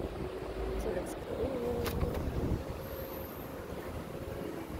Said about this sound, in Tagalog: Mahangin lang, walang ulan.